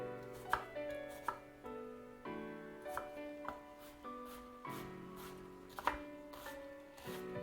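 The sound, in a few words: dicing onion with a knife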